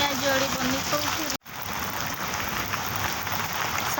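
The season's first rain falling in Nalco, Angul, a steady dense hiss of raindrops throughout, close and fairly loud, briefly cut out once, with faint talk in the background.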